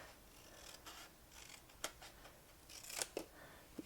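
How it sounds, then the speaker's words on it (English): Scissors snip through paper card along a line for a tunnel card base, with a series of soft close cuts and a few sharper crisp snips near the end. "you want to cut out along the inner vertical line"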